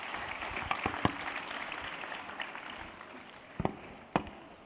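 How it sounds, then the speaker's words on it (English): Applause from the audience after a panel session at the ChangeNOW 2023 event, a fairly soft, diffuse clapping with a few sharper close claps standing out, fading toward the end. "If we can give a round of applause to Sara and Jean-Philippe."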